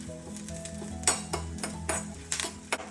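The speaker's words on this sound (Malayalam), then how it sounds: "കുറച്ച് വെളിച്ചെണ്ണ നനച്ചിട്ട് ഒന്ന് വറുത്തെടുക്കാം." Something is roasted in coconut oil in a pan at home, with a soft sizzle under repeated scraping and stirring and light clinks of a utensil against the pan, close and fairly quiet.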